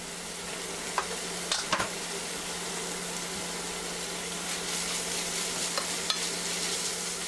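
Minced meat fried with peppers in a pan for a potato dish, a loud continuous sizzle filling the whole stretch with occasional faint clicks of a spoon against the pan.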